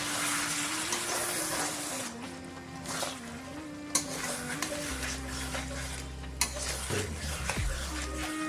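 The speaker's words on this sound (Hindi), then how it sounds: "अभी मैं अच्छा से मिक्स कर देंगे।" Chicken curry with cloves, cardamom, cinnamon and a splash of water is stirred in a hot pot, with a steady sizzle, soft scraping strokes and a couple of sharp clinks.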